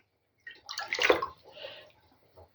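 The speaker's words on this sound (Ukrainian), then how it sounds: "А тоді вже буду заливати воду до верха." Water poured into glass jars of pickled tomatoes makes a short splashing, gurgling pour that swells, dips, then trickles briefly before stopping, close and clear.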